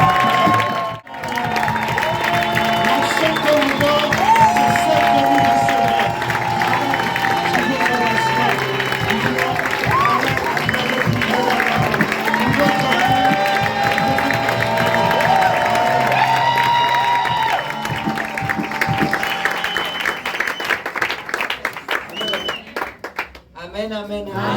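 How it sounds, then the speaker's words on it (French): A church congregation at a mission gathering in Libreville, Gabon, erupts in sustained cheering, clapping and shouts of acclaim, a loud and dense roar of many voices that holds for about twenty seconds before fading abruptly. "je veux que tu acclames le Seigneur"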